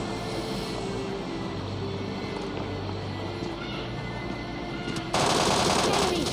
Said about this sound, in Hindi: M4 से आराम से इसको नॉक कर देता हूँ।